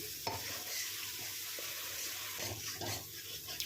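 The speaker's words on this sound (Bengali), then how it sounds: "পোস্তটা ভালো করে নাড়াচাড়া করলাম" Poppy seed paste stirred and fried in a pan for an okra and potato dish, heard as a continuous sizzling hiss with repeated scraping strokes of a spatula, fairly quiet and without speech.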